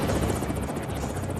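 A helicopter carrying a high-frequency radar flies during a test at Edwards Air Force Base in California, its rotor giving a loud, steady, rapid chop with a heavy engine drone.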